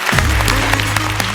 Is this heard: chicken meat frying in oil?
no